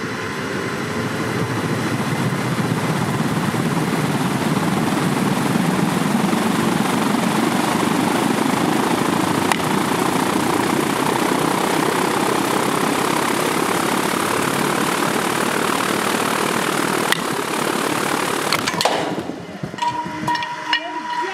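The Mad Batter home-run hitting machine fires up with a loud, sustained roaring whine that builds and holds for nearly twenty seconds, then breaks off abruptly into quieter rattling and clatter at the end.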